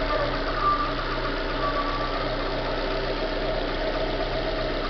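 Chevrolet Corsa 1.0 VHCE engine idling steadily with a faint scraping noise from parts rubbing together, a continuous even drone with no voices.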